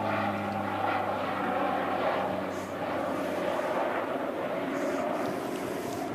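A Qantas airliner at Christchurch Airport gives a loud, continuous jet engine roar with a broad rushing rumble that swells slightly and holds steady throughout.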